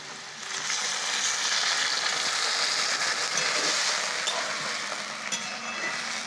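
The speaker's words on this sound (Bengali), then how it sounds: "এবার আমি জল দিয়ে দেবো।" Water poured into a hot frying pan of well-fried potato and poppy seed hisses in a steady, close sizzle for several seconds, with faint stirring scrapes and no voices.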